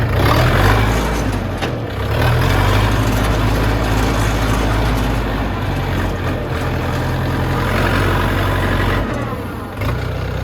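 A HORST L404 tractor engine pulls away in first gear, a loud close diesel drone with low throbbing that dips briefly and dips again near the end, no speech.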